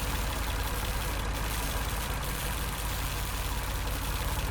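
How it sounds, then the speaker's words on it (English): A diesel generator engine in a shed in the game Lost Horizon runs at a steady, low idle, with a constant chugging drone and no voices. "Judging by the engine noise and the smell, there are diesel generators in this shed."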